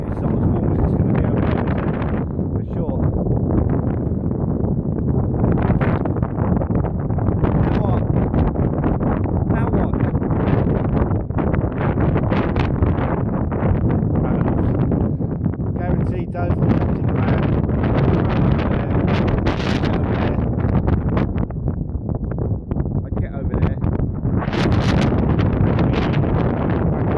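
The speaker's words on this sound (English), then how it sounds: "It's pissing down with rain. It's windy." Heavy wind buffets the microphone in loud, continuous gusts, with a dense rushing wash of heavy rain, lasting the whole stretch.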